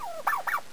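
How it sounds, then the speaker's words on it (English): Newly housed turkeys in a small wire pen converted from a duck house give a short call: a brief warble followed by two quick, rising-and-falling gobble notes, fairly close and clear. "So there's my new turkeys."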